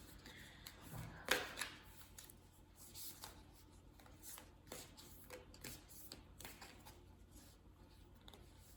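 Oracle cards handled and shuffled by hand, with soft rustling and flicking plus a few sharper card snaps, quiet and close with no talk.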